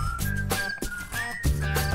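Whistled melody at a church vacation Bible school event, steady sustained tones with short pauses, loud and close over instrumental backing.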